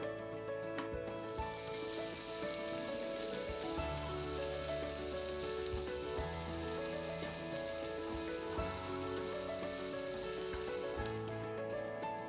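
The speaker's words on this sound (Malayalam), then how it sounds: "ഈ സവാളയൊക്കെ ഒരു ഗോൾഡൻ ബ്രൗൺ കളറായി നല്ല വാടി വരുന്നതിന് വരെ നമുക്ക് ഒരു മീഡിയം ഫ്ലെയിമിൽ ഇട്ടിട്ട് ഒന്ന് നന്നായിട്ട് വഴറ്റിയെടുക്കാം." Sliced onions sauté over a medium flame until golden brown, a steady close sizzle and crackle that runs unbroken throughout with no talking.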